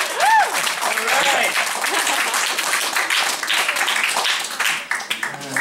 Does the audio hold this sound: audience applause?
yes